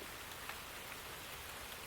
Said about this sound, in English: The rain pitter-pattered on the surface of the leafy umbrella.